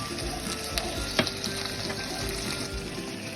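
Corned beef sizzling and frying in a pan, a steady loud crackle with occasional stirring scrapes, heard up close with no talk.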